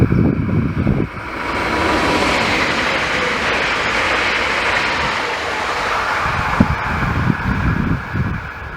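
A regional S-Bahn train passes on the track, giving a loud, steady rolling roar with hissing wheel noise and a few sharp rail clanks near the end.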